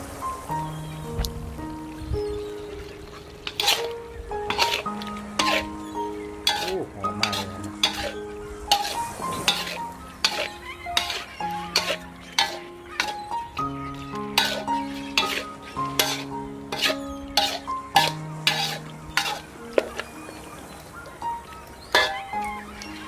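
A spoon stirs sugar into a simmering pork cartilage curry in a pan, giving repeated metallic clinks and scrapes in an uneven rhythm over a low sizzle, with a tonal background running underneath.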